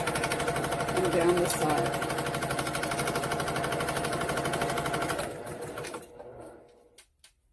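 Sewing machine stitching muslin fabric for an aromatherapy eye pillow, a steady fast mechanical whir that runs for about five seconds under brief talk, then slows and stops, leaving a few faint clicks.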